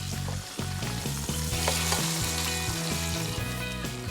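Beef fries in fat in a pan, giving a loud, continuous sizzle with popping crackles and faint scraping, close up and with no voices.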